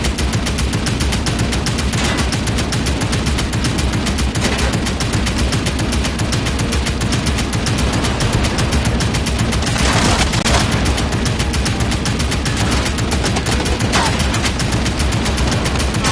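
In the video game Medal of Honor: Above and Beyond, an aircraft gun turret fires at fighter planes in a relentless, dense stream of rapid gunfire over a constant roaring drone, loud and unbroken throughout with no speech.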